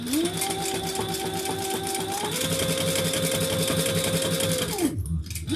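A sewing machine runs a steady, continuous whirring stitch while top stitching denim next to a zipper on a waist pack, the motor pitch shifting slightly before stopping abruptly near the end.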